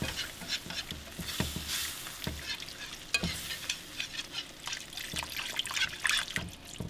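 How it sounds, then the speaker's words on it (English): Gravy being stirred in a pan as water is poured in while smothered pork chops cook, giving continuous scraping and sizzling with trickling liquid, close and fairly loud. "stir it as you go, as you're putting that water in."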